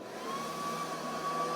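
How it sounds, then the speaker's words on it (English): An Airdeer automatic trash can hums with a steady, close vacuum whir as it pulls and self-seals its bag, holding an even drone with a faint high whine for the whole short stretch. "Now it's vacuuming, and then it's empty."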